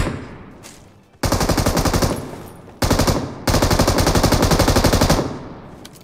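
Automatic gunfire rings out in PUBG: loud, close bursts of rapid shots, one short and two longer sustained volleys, with brief gaps between them and no talking.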